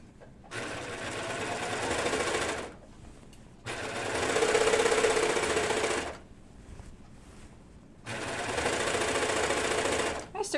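A serger sewing machine stitches along a fabric edge in three loud, close bursts of rapid mechanical whirring, each lasting a couple of seconds and separated by quiet pauses.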